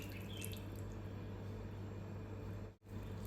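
Milk is poured into a wheat flour batter for gulgule as a soft, steady, faint liquid trickle over a low electrical hum, with a brief break near the end and no talking.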